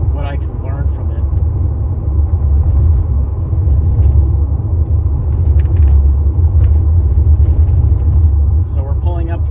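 Mercedes-Benz R129 roadster pulling onto a rocky dirt road near a Santa Ynez vineyard, with a steady low engine and road rumble throughout and someone talking over it.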